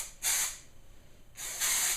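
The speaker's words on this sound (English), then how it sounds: "spray it all in my root area here" Kenra Color Care Platinum Dry Shampoo sprayed onto hair roots in two sustained aerosol hisses, close and steady, separated by a short pause.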